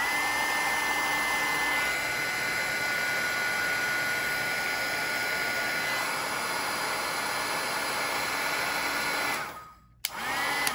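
A heat gun sets embossing powder on a card with a continuous, loud roar of hot air that runs for about nine seconds before cutting off abruptly, followed by a brief click and quiet.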